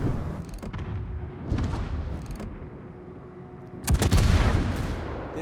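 Naval gunfire in a warship battle video game, muffled distant booms and thuds followed by a louder, closer salvo near the end, with no talk over it.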